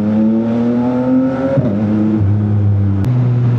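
A Yamaha MT-09 Gen III motorcycle on Michelin Road 6 tires rides along with a loud, steady engine drone that shifts pitch as it changes gear, and wind rushes underneath throughout.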